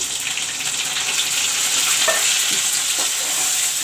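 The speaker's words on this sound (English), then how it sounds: "Now the chopped tomatoes, the cut up tomatoes I will put in." Chopped tomatoes fry with browned onions in a pan, giving a steady, bright sizzle punctuated by a few soft stirring scrapes.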